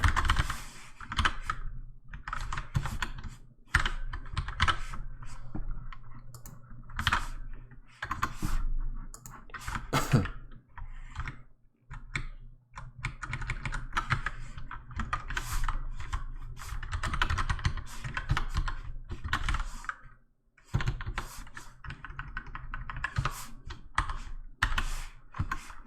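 Typing on a computer keyboard while coding, bursts of rapid close clicks and clacks separated by short pauses, continuing steadily and fairly loud throughout.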